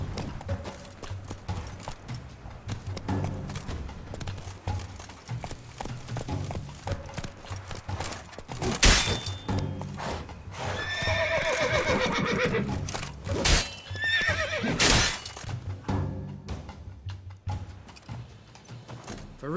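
Roach, the horse in The Witcher 3, gallops with steady clip-clopping hooves and lets out several loud neighs and whinnies over a busy game soundscape of music and effects.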